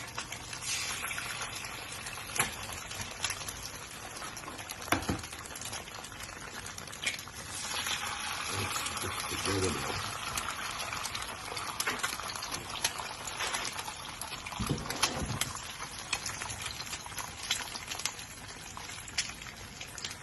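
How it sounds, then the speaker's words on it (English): Eggs fry in a lot of butter in a skillet, giving a continuous close sizzle and crackle with scattered pops and a few louder bursts, with no talking. "We're just gonna get them in the skillet."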